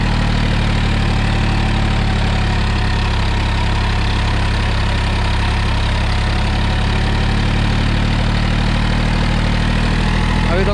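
A steady, loud diesel engine of a 2019 Massey Ferguson 245 DI 50 HP tractor pulling a 7-foot rotavator, running at a constant idle-like throb, unbroken throughout with no talking.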